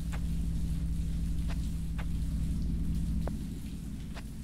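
Steady rain in the cyberpunk video game Conglomerate 451, a continuous dense hiss with a low hum beneath and a few faint clicks, with no talking.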